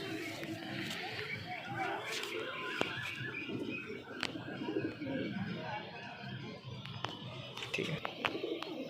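Madras pigeons coo softly in a loft, the low calls half buried under steady background noise and nearby voices.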